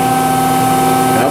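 A Speedfam 625TFG thru-feed grinder wheel spinning in an industrial shop, giving a steady, loud machine hum with a sustained whine, continuous and even throughout.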